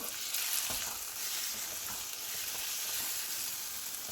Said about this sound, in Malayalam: മല്ലിപ്പൊടിയൊക്കെ ഇട്ട് കൊടുത്തൊന്ന് ഇളക്കി കൊടുക്കാം.